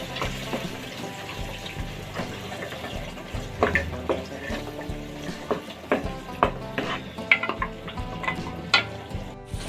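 Mutton simmers with ground masala in a pan, giving a soft, steady sizzle. A spoon stirs and scrapes up close with irregular clinks and knocks, and no one speaks.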